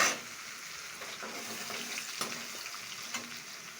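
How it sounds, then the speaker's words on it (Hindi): Garlic sizzles and crackles in hot oil in a pan while biryani is cooked, a quiet, steady frying hiss with small pops and a few faint stirring clinks. "अब हम डालेंगे लहसुन"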